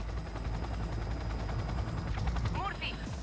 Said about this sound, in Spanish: Con el metralletón este en el helicóptero.